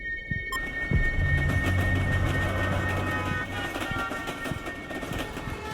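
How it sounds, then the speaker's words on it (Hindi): A passing train rumbles and clatters in the background of a played recording, with a steady low drone and a thin tonal whine. The sound stays continuous and fairly faint for several seconds, with no voices. "एक फिल्म में ऐसे ही किडनैपर ने बैकग्राउंड में ट्रेन का साउंड डाला था"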